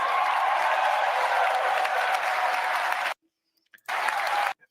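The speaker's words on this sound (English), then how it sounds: "Another rapturous applause at drill, baby, drill." A large audience at a Trump political speech bursts into loud, sustained applause, which cuts out abruptly for a moment and then returns just as loud.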